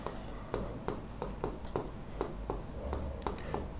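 Chalk or marker writing on a classroom board during a grammar lesson, steady close scratching strokes in a quick irregular rhythm with faint room noise.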